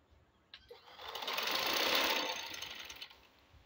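A sewing machine runs a steady stitch along the side seam of a pair of trousers, whirring up loudly after a couple of clicks, holding a continuous buzz for about two and a half seconds, then slowing to a stop.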